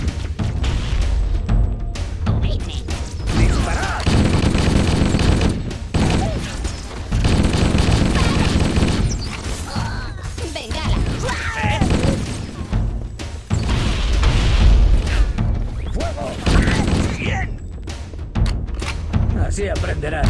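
Rapid bursts of gunfire and booming explosions fill a Halo: Combat Evolved battle, dense and loud over a steady rumble of game action, with soldiers shouting between volleys.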